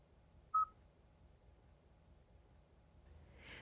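A single short electronic beep sounds from a Kia car's phone system as a call is placed, followed by quiet hum and a faint rising tone at the end.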